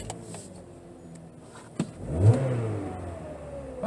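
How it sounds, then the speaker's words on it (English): A 2011 Chevrolet HHR pulls away and its engine revs up, a rising surge following a sharp thump, with the engine note holding steady as it moves off, fairly close and without speech. "Yeah, let's drive this thing."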